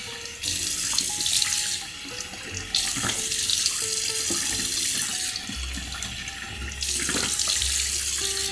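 A bathroom sink tap runs steadily while someone rinses and cleanses their face, water splashing and shifting in flow as hands move under the stream, close and continuous with no talking.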